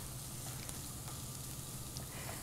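Minced garlic softening in a saucepan over medium heat, giving a steady, gentle sizzle that runs unbroken and close at low volume, with no voices.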